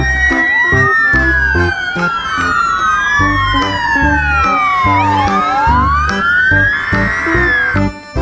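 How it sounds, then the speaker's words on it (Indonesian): A toy fire truck's electronic siren wails in loud, sweeping rising and falling tones, layered with a second siren pattern and steady rhythmic beeps, sounding close and continuous throughout. "Yang ini ada mobil pemadam kebakaran."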